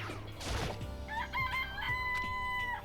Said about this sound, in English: I appreciate the chicken noises.